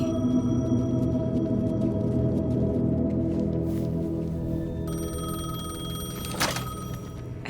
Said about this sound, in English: phone was ringing. Somehow I knew the call was for me.